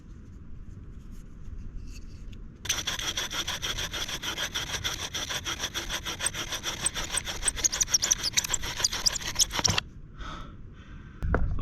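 Wooden bow drill spindle rubbing hard in a worn divot while starting a survival fire, a loud rapid back-and-forth rasping that runs steadily for about seven seconds, then stops, with no talking.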